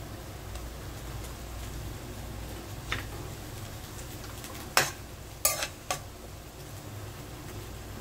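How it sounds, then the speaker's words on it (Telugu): Ginger garlic paste stirred into a frying tomato curry: a low, steady sizzle with a few sharp scrapes and clacks of a spoon against the pan, heard close with no talking. "అల్లం వెల్లుల్లి పేస్ట్ వేసుకుని దీన్ని బాగా మిక్స్ చేసుకున్నాము"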